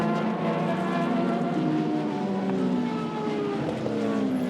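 Endurance race cars, Hypercars and LMGT3 machines such as Ferrari and McLaren, at the Fuji WEC six-hour race, engines droning loudly together with rising and falling pitch as the cars pass close by.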